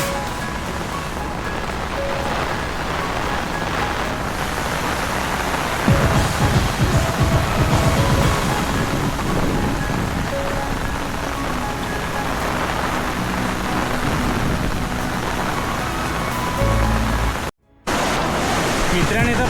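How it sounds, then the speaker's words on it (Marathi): Heavy floodwater after intense rain rushes and roars continuously, a dense broadband torrent close by, with a louder churning surge partway through and a brief cut near the end. "पाण्याचा फ्लो एवढा जबरदस्त आहे ना"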